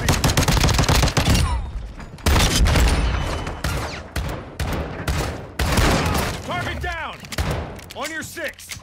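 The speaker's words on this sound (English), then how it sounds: "Taking fire!" Rapid gunfire rattles through a Call of Duty Modern Warfare II Infected match, loud dense bursts and single shots stacking up with brief pauses, while voices call out under the shooting.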